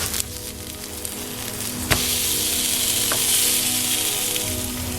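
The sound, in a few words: vegan black bean burger patties frying in a pan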